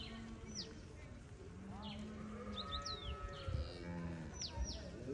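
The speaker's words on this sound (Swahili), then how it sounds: "Hii ni jamii ya ng'ombe wakubwa." Large herd cattle lowing repeatedly, overlapping moos near and far across an open pasture, with a steady crowd-like murmur of the herd underneath.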